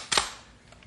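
A single sharp rifle shot cracks out once at a charging grizzly bear, a short bright report that fades quickly, staged as a radio drama sound effect.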